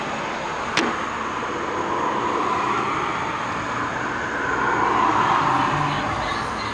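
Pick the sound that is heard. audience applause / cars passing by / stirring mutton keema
cars passing by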